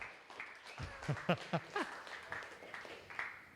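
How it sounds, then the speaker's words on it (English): An audience at a Bitcoin hackathon in Miami claps for the judges, a short scattered burst of applause with a few distinct hand claps, fairly quiet and sparse. "I just want to hear everybody clap."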